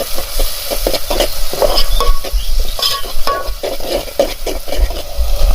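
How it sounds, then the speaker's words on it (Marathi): Stirring and mixing small river fish with tomatoes in a hot frying pan, with rhythmic scraping strokes over a steady sizzle, close and loud with no talk. "शेवड्या टाकून आता मिक्स करतोय"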